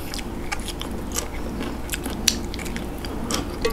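Someone bites and chews pieces of chewy tako octopus close to the listener, giving a steady stream of small wet crunches and squelches with no talking.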